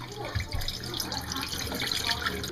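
Water soaking ground acorn meal is poured off from a container into a kitchen sink, a continuous splashing, gurgling stream up close and moderately loud, with faint background noise.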